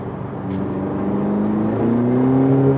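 A 2020 Honda Civic Si accelerates in third gear at about 35 mph with a slipping clutch, its engine note rising steadily and loudly as boost comes on, heard from inside the car.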